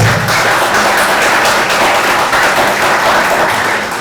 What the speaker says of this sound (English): Please give a big round of applause for this.